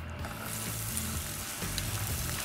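Onions sizzle steadily in a pan of hot oil with cumin seeds, a dense, continuous frying hiss with faint crackles and the scrape of stirring, close and loud with no talking.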